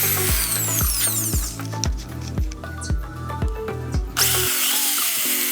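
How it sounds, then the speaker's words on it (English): A power drill bores holes in a 400 by 1000 mm metal sheet for bends and pop rivets, a repeating series of short whirring bursts with a rhythmic ratcheting pulse, loud and close, ending abruptly. "Drill the holes for the bends and the pop rivets."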